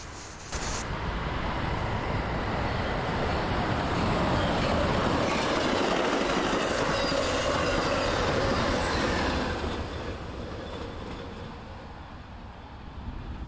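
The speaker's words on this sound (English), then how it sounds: "It's the first Amtrak train of the day, Amtrak 503, Cascades passenger service from Seattle's King Street Station to" Amtrak 503 Cascades passenger train, running from Seattle's King Street Station to Eugene, Oregon, roars past close by in Tenino with a steady loud rumble and rail clatter, then fades slightly as it recedes.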